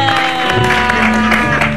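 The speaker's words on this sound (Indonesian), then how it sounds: "Tepuk tangan sekali lagi buat Po Eli dan Ferry" Studio audience applause on an Indonesian TV gossip show, a brief burst of clapping mixed with musical tones and the murmur of the set, loud and close.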